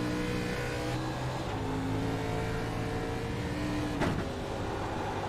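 A race car laps the Watkins Glen road course, its engine droning steadily with shifting pitch and a brief sharp burst near the end, heard at a moderate distance without talk.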